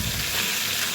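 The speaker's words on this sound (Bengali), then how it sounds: "কথা বলতে বলতে আমার মাছগুলি ফ্রাই হয়ে যাচ্ছে।" Chilli-coated fish pieces frying in hot oil for a coconut fish korma, a brief, steady close-up sizzle with no talking.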